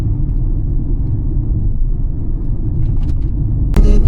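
A car drives along narrow single-track roads with passing places in the Scottish Highlands, giving a steady, close interior engine and road rumble throughout and a brief brighter burst near the end.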